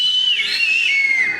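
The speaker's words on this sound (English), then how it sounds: "Yes, that's the kind of whistling we need constantly, right?" Audience members at a live show whistle loudly, a shrill sustained whistle with a gently sliding pitch that carries on unbroken for over a second.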